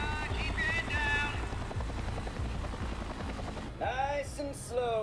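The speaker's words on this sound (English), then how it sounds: "They're about to shoot that chopper down." A helicopter in the video game Resident Evil 4 Remake churns with steady low rotor pulsing under a wash of broadband noise; brief tonal cries cut in near the end.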